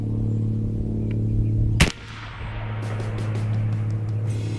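A .30 caliber AEA Challenger bullpup air rifle fires an 85 grain powder-coated slug, giving one sharp, loud crack over a steady low hum, with faint clicks following.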